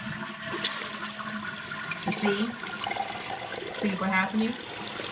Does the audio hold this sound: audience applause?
no